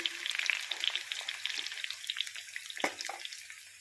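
Brinjal pieces fry in two spoons of oil with tomato, green chili, curry leaves and tamarind, a close steady sizzle and crackle with a few stirring scrapes, with no talking.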